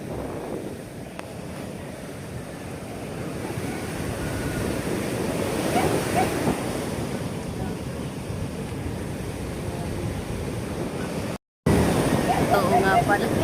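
Big ocean waves roll near a fishing boat that carries a net, a continuous loud roar of surf mixed with wind buffeting the microphone, with faint voices underneath and a brief dropout near the end.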